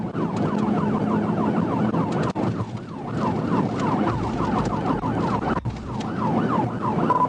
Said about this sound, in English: Trooper Evans flicked on his emergency lights and siren, expecting the sedan to pull over.